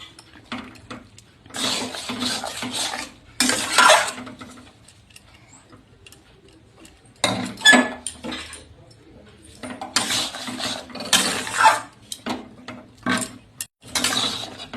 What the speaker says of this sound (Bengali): এটা কিন্তু নাড়তে থাকতে হবে, ছেড়ে দিলে কিন্তু হবে না, গুড় আছে নিচে বসে যাবে।